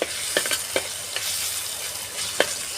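Green chili paste frying in a pan with a steady broadband sizzle, broken by several sharp scraping strokes of a spoon stirring through it, close and fairly loud, with no voices.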